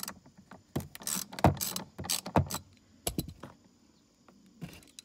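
A ratchet on a 3/8 inch drive turns a Torx 40 bit to remove clips while installing a SharkBar on a C7 Corvette, giving bursts of rapid pawl clicking, close and crisp, with short pauses between strokes.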